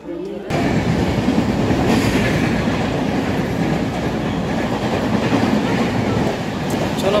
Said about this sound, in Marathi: चलो पब्लिक, ट्रेन आली आपली आता।